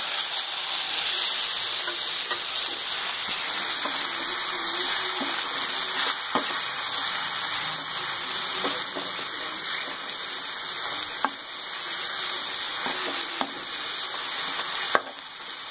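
Chopped tomatoes and golden fried onions sizzle steadily in a pan for pav bhaji, a continuous close frying hiss with occasional soft stirring clicks and no talking.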